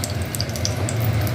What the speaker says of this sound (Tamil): இப்போ நெய் விட்டு நம்ம தாளிக்க போகிறோம்.